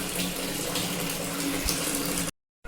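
Water gushes steadily and loudly from a bathroom tap as it runs to fill a cooler, then cuts off abruptly just before the end, with no talk.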